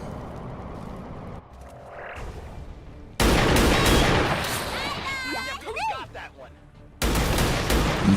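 Soldiers open fire in XCOM 2 turn-based combat, loud bursts of gunfire arriving in two heavy waves with a quieter stretch of game ambience and tonal effects between them.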